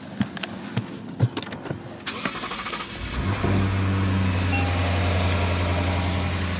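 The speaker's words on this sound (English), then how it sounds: "Relatively subdued startup sound actually." A Lexus IS500 F-Sport sports sedan's engine starts after a few clicks and cabin knocks, settling into a steady, fairly subdued low idle hum that continues close by with no talk.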